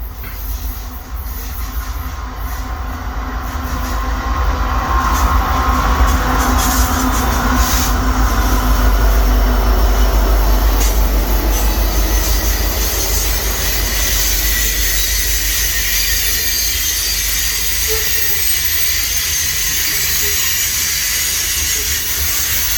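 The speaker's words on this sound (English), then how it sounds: "There is a train coming." A train rolls past on the rail line at Revelstoke, British Columbia, a steady heavy rumble and hiss that swells to a loud peak and stays sustained with no talking.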